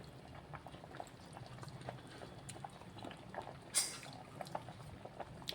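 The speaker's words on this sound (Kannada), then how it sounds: "ಇದು ಮತ್ತೆ ಚೆನ್ನಾಗಿ ಕುದಿಬೇಕು" Soft bubbling of a simmering pot of okra curry, low and steady, with occasional small pops and a brief sharper clatter midway; no voices.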